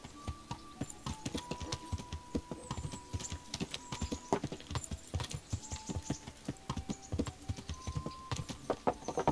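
Steady, rhythmic clopping of horse hooves at a brisk trot in the video game Kingdom Come: Deliverance, continuous and fairly close, with no voices.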